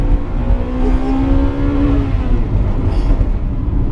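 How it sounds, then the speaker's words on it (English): A Honda Integra Type R engine climbs hard into VTEC with a rising howl, then bounces off the rev limiter, loud and close inside the car. "I did hit the rev limiter a bit there"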